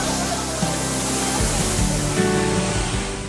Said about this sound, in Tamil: திருப்பரப்பு அருவியில் அண்மையில் பெய்த மழை காரணமாக நீர் அதிகம் வருவதால்